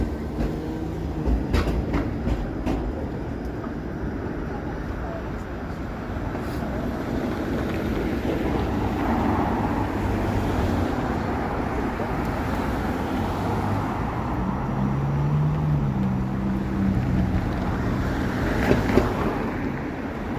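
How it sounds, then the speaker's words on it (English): A Toronto streetcar turning a downtown corner on a cold evening, a sustained rumble of wheels and rail noise with faint squeal, moderately close over street ambience. "Streetcar's making a turn here."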